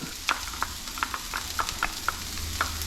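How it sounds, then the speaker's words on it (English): Garlic, carrots and onions sizzle in a very hot pan with a little neutral oil while making Chinese fried rice, a steady close hiss broken by several sharp clicks of a utensil against the pan. "probably like 3 teaspoons of neutral oil, and in with the veggies. So garlic, carrots, and onions, straight into it."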